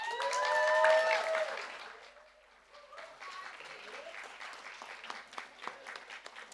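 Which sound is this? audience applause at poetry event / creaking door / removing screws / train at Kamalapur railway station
audience applause at poetry event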